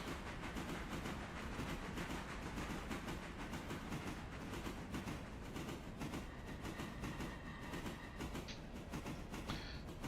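Train rolling along the track in the railway game Railroader, a steady dense rumble with rhythmic clatter running continuously and fairly loud throughout, with no talk over it.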